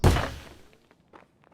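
A gunshot fired through a wall in the video game Escape from Tarkov lands as a single heavy, muffled thump that decays quickly, followed by a few faint shuffling sounds.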